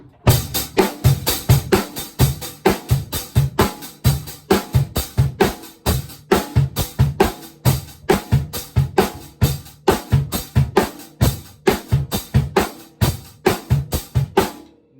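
A steady, fast pop drum beat with rapid hi-hat strikes over regular kick and snare hits, played loud and close without any talking.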